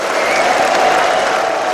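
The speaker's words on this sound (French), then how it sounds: "s'attirant les applaudissements des milliers de militants venus assister à ce congrès refondateur" Thousands of party activists applaud at a French political party's refounding congress, a dense, continuous roar of clapping held at an even, loud level.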